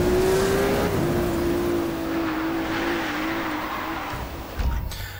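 A Ferrari's engine holds a steady high drone in the Need for Speed Rivals racing game, its pitch barely shifting as it cruises along, loud and continuous with no voices, ending in a short burst of noise.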